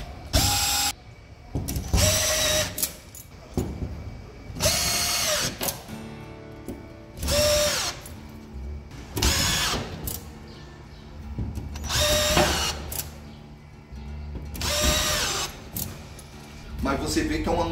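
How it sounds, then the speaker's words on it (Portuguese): A cordless screwdriver fitted with a drywall adapter drives screws into a drywall wall, with repeated short bursts of whirring and ratcheting clicks, about six in a row, with a voice talking in between. "uma maneira prática de você transformar uma parafusadeira comum em uma parafusadeira para drywall"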